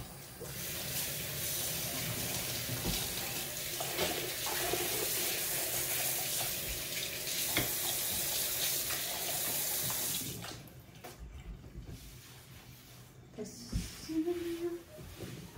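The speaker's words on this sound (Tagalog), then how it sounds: "Alam niyo na, binababad ko tong sink." Tap water runs steadily into a sink that is being filled for soaking, a continuous splashing hiss that cuts off about two-thirds through, followed by quieter clinks and a faint voice.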